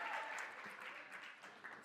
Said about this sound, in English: Can we make one more round of applause for Olly right now?